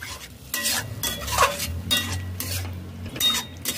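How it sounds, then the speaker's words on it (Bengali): A spoon stirs spinach and mushroom curry in a pan with yogurt, scraping and clinking against the metal in repeated strokes over a low sizzle of frying, close and fairly loud. "এইভাবে ভালো করে কষিয়ে নিতে হবে"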